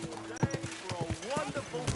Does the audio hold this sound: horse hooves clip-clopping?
yes